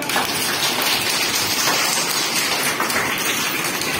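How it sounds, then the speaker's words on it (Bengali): A preschool class of children clapping their hands together, a dense, steady patter of many overlapping claps filling the room with no gaps. "হাততালি দাও।"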